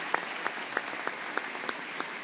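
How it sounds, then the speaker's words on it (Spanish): An audience at the opening ceremony of a general medicine congress applauds, with evenly spaced rhythmic claps standing out over a steady bed of clapping for a couple of seconds. "un aplauso grande para nuestros residentes de Medicina General"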